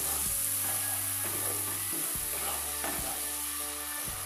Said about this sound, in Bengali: মশলাটা আমি পেঁয়াজের সাথে ভালো করে ফ্রাই করে নেব।